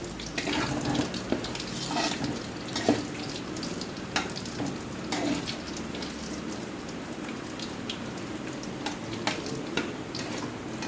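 Beaten rice (chura) crackles as it fries and is stirred in a pan, giving a steady dense sizzle with scattered sharper pops and scrapes throughout, close and continuous.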